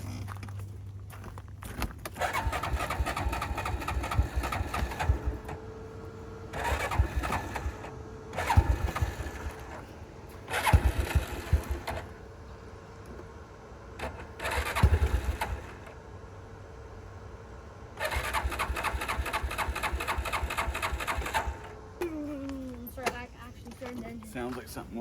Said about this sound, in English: The four-wheeler's not starting now.